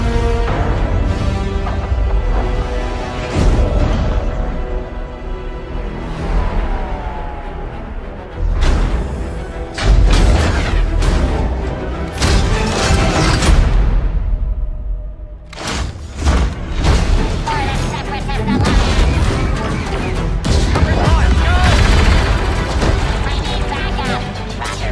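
Blaster fire and explosive crashes in a Star Wars Battlefront 2 battle, loud and chaotic bursts with booming impacts and brief lulls, game effects layered throughout with no speech.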